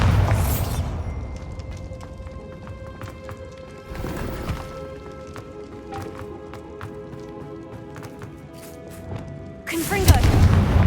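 Bombarda explosion spell in a Harry Potter video game, with a sharp broadband blast at the start, another mid-clip and a louder burst near the end over a low ringing game background.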